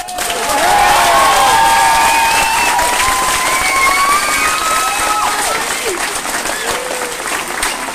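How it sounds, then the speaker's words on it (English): A large crowd at a Cork All-Ireland ladies football championship celebration breaks into loud, sustained applause with cheering and shouts, holding steady for several seconds before easing slightly, with voices mixed into the roar. "I think she deserves a great round of applause."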